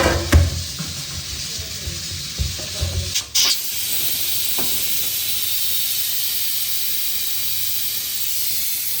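Pressure cooker letting off steam in a continuous loud hiss that holds steady for several seconds, after a few knocks and handling sounds.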